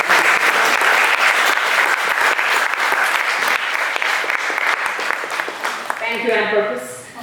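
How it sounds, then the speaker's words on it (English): Audience applause at a business forum on ESG practices: dense, sustained clapping from a large crowd for several seconds, tapering at the end as a voice begins speaking. "But a round of applause to these stellar individuals who contributed."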